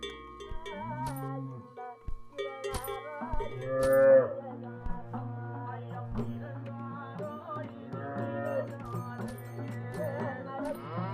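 Cows low and moo in long, drawn-out calls that overlap and rise and fall across the stretch, with sharp clicks or knocks scattered through them.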